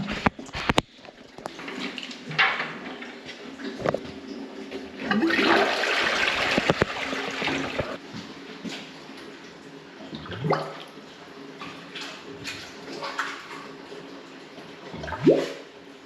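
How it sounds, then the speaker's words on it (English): Toilets flush repeatedly to build a head of water in a blocked drain, bringing loud rushing and gurgling water surges with clunks and drips between them, close by. "we might as well fill the toilets up as much as we can and get a nice head of water on the drain"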